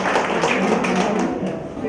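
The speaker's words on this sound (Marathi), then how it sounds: "या गोड आवाजाला पुन्हा एकदा टाळ्या" Audience clapping in applause for a young girl's sweet singing at a family celebration program, a dense steady patter of many hands over two seconds, moderately loud with some murmuring voices underneath.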